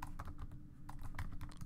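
Quick keystrokes on a computer keyboard come in uneven bursts of soft clicks with a short pause midway, faint and close, as Java code is entered.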